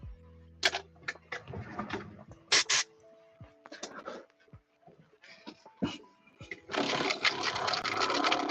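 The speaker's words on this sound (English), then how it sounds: "Did you have your paint mixer on top of a guitar there?" A paint mixer runs while resting on a guitar in a hobby workshop, giving scattered clicks and rattles before settling into a steady, loud buzzing whir over the last couple of seconds, with faint voices in the background.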